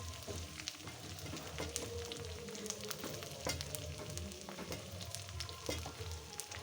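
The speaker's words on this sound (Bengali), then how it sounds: "এবার আমি টমেটো কুচিগুলো দিয়ে দিচ্ছি" Chopped tomatoes go into a hot pan for a Bengali egg curry with whole coriander leaves, giving a steady close sizzle and frying crackle with occasional stirring scrapes and clicks, no talk.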